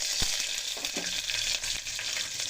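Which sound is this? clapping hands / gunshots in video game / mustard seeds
mustard seeds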